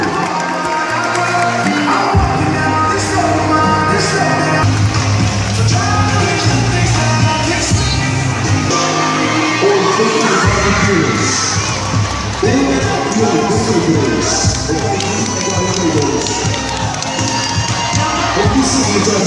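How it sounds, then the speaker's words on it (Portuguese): Loud crowd at a Miss and Mister Martinópolis 2015 pageant cheers, shouts and applauds a candidate continuously, with high excited voices and children shouting throughout. "Os aplausos para Maria Luísa, candidata Bis Martinópolis."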